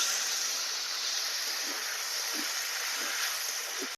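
Water poured into a pan of cooked-down ginger and tomato masala for a singi and sona khorke fish curry: a steady, fairly loud rushing hiss that runs unbroken for the whole stretch, with no voices.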